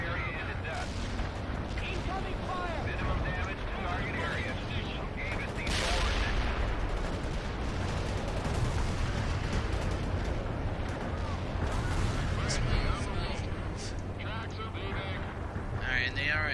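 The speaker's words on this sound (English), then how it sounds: "Artillery barrage turned the target area into dust." Artillery barrage in the World in Conflict video game, a dense, continuous wash of rumbling blasts and crackling gunfire, loud and sustained, with a heavier burst near the middle, mixed with radio-style voices.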